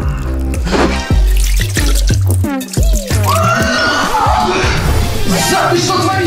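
Water splashing and dripping as a woman spills it out during a school classroom scene, loud and close with a sharp splash at the start and trickles continuing throughout.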